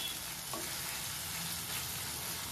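Paneer frying in a pan gives a steady, dense sizzle that runs unbroken and fairly close throughout, with no voices.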